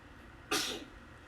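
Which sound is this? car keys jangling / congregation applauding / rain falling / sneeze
sneeze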